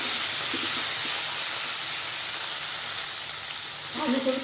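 Potato pieces frying in a hot pan on a gas flame, a steady broadband sizzle and hiss running throughout at even loudness, with a brief clatter near the end.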